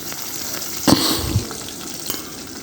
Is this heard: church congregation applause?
no